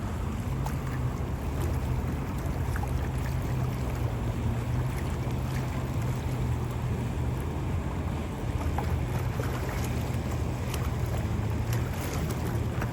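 A Sea Ray motorboat passes on a creek, heard as a continuous low motor hum mixed with water wash and wind buffeting the microphone.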